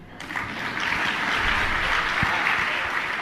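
Applause from a seated audience at a Jain religious discourse session, a steady, dense wash of clapping that swells slightly and holds throughout, with no voices over it.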